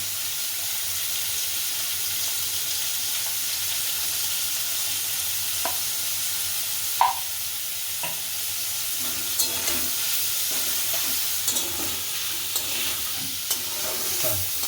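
Vegetables with soybean chunks and a pinch of turmeric sizzle steadily in a pan, while a spatula scrapes and taps at irregular intervals, growing busier toward the end.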